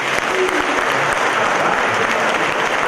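An audience at a career development motivational talk claps steadily in a dense, continuous wash of applause, loud and close throughout with faint crowd murmur beneath.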